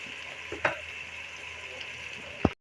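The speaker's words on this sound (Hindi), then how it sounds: "2 मिनट तक हम इनको फ्राई कर लेते हैं।" Green chillies and spices frying in a pan for mutton paye give a steady, soft sizzle with a few sharp clicks, heard alone without talk.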